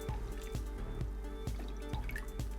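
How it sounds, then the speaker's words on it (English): A Reposado Negroni made with Don Julio Reposado is strained through a julep strainer, the liquid spilling down in a steady pour broken by a regular series of drips and small splashes. "We will julep strain the contents of our Negroni"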